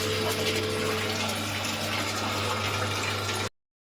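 Tap water gushing steadily into a container at home for laundry, a loud continuous pouring rush with a low pump-like hum beneath, cutting off abruptly near the end.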